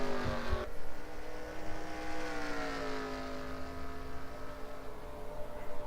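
Stock cars racing at Richmond in a NASCAR video game, engines droning loudly at high revs with steady harmonic whine and shifting pitch as the pack runs continuously.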